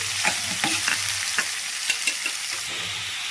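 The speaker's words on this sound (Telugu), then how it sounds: "పచ్చిమిర్చి అయిన వెంటనే ఆనియన్స్ వేసుకోవాలి" Chopped green chillies and onions frying in hot oil for a carrot curry, a dense continuous sizzle broken by several sharp spatula scrapes against the pan, with no voices.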